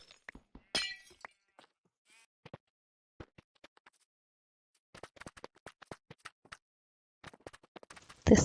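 Glass blocks breaking in the Minecraft 1.21 video game, a few short sharp clinking bursts spread through quiet stretches with scattered faint clicks and taps, the loudest crash near the end.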